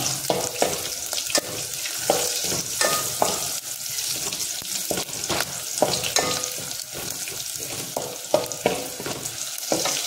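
Garlic sizzles in hot oil in a pan while being cooked for a jackfruit bhaji: a steady crackling fry with occasional louder pops and stirring scrapes, continuous for about ten seconds, with no voices.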